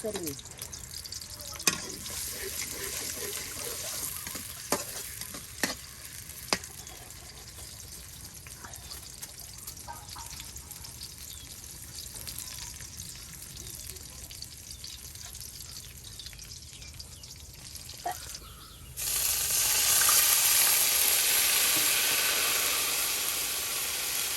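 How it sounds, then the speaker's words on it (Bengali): Onions fry in oil over a fire in a rural village kitchen, a soft steady sizzle with occasional sharp stirring clicks under voices, then swelling into a louder, brighter hiss near the end. "পেঁয়াজগুলো সুন্দর করে আগুনে ভেজে নেওয়া হচ্ছে"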